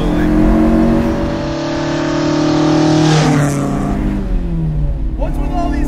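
A 1969 Lancia Fulvia Rallye 1.6 HF four-cylinder engine revs hard and close, a loud steady drone that climbs in pitch, dips near the middle, then rises again, with speech mixed in.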